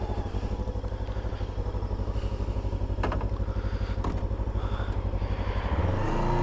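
A Rieju Aventura 500 motorcycle engine runs steadily and loud at close range, a continuous throbbing drone with a few sharp clicks, rising slightly in pitch toward the end as if revving or pulling away.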